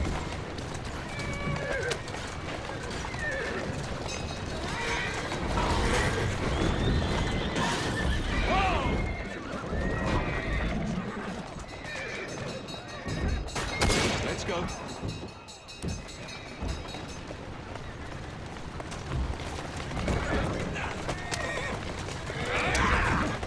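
A horse in Assassin's Creed Syndicate whinnies and snorts amid clip-clopping hooves and game ambience, with a voice talking over parts of it.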